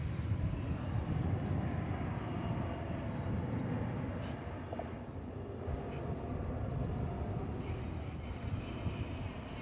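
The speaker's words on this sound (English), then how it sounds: "There was a plane taking off over there" A jet airliner taking off at Dallas/Fort Worth Airport, heard as a steady, fairly faint broadband roar from a distance with no voices over it.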